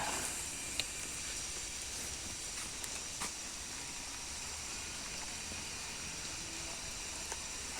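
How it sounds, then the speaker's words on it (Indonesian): Light drizzle falls outdoors near the Puhsarang Catholic church and a cemetery, as a faint, steady hiss with a few scattered soft ticks and no voices. "Ini posisi gerimis ya."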